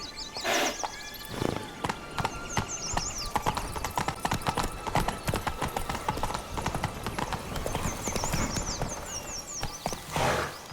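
A horse in The Witcher 3: Blood and Wine gallops with a fast, steady clatter of hooves, loud and close, and brief snorts or whinnies come at the start and end.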